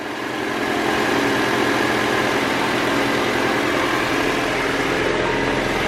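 A Honda Civic engine idles with compression leaking into the radiator, running smooth and steady with a constant low rumble and no voices.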